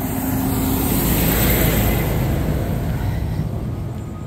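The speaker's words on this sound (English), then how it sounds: "I think this is just like cars coming off the highway or like a main road." A steady, loud roar of cars on a road near the highway, heard on a roadside stretch of the Camino de Santiago between Trabadelo and Linares, Spain, with continuous tire and engine noise and no talking.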